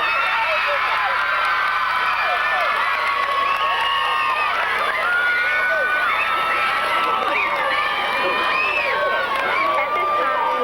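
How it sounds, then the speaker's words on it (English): A 1998 school homecoming crowd cheers and applauds for the homecoming queen, with loud sustained shouting, whoops and clapping all through and voices mixed into the din. "let's all give an applause for our queen, Miss Cosette Jackson."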